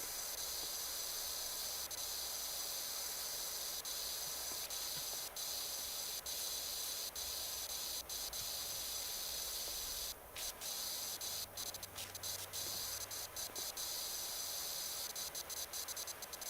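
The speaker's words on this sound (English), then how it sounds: "I'm surprised that the paint actually stays on when you're spraying this shit down." A power washer jet in Powerwash Simulator, a steady high hiss of spray held throughout with faint clicks and ticks over it, no talking.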